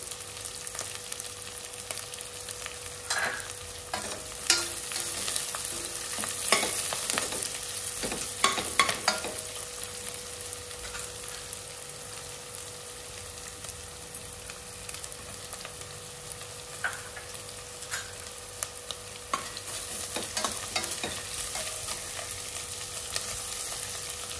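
Vegetables frying in a pan for Pabbiyam kichidi, a quiet, continuous sizzle broken by occasional sharp stirring scrapes and clinks, with no one speaking.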